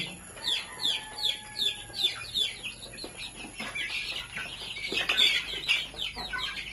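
Young two-month-old chickens on a Kerala poultry farm give a steady, rhythmic run of high cheeps and clucks close by, with faint background noise.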